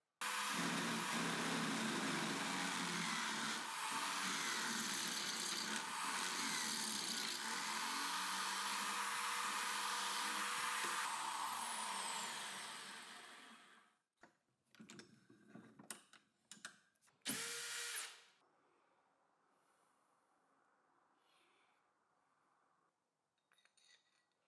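A power drill runs loud and steady for about thirteen seconds, widening a hole in the metal leg of a leveling caster screwed onto a piece of wood, then stops, followed by scattered clinks and handling noises and one brief burst.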